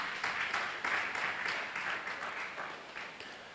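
A church congregation claps during a Sunday service, a dense, steady patter of many hands filling the room with loud, continuous applause and faint pulsing swells.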